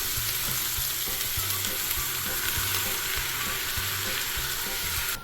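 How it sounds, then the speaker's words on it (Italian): Chopped onions fry in hot olive oil for a Tuscan ribollita soffritto, a continuous dense sizzle heard up close throughout with no talk. "metto a riscaldare olio d'oliva e verso le cipolle tritate"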